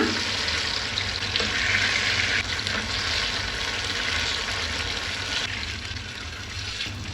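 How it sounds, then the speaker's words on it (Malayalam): Banana fritters frying in hot oil, giving a steady, dense sizzle that fills the whole stretch, close and loud with no speech over it. "എണ്ണ ചൂടായതിലേക്ക് ഓരോന്നും വെച്ച് കൊടുക്കാം"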